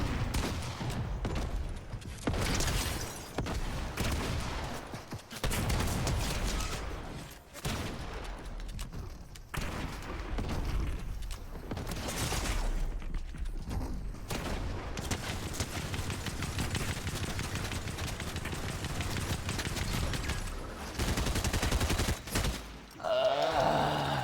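Video game gunfire comes in loud, repeated bursts of rapid shots across the whole stretch, separated by brief pauses.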